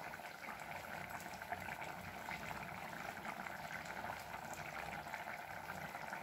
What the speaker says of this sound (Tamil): பாருங்கள் குழம்பு நல்லா கொதிச்சு வெந்து வந்துட்டு